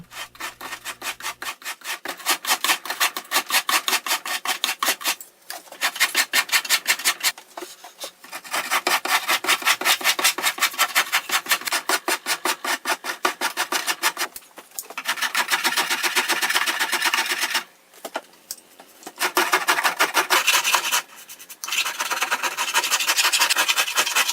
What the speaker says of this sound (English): Here I'm shaping the hull with a wood rasp.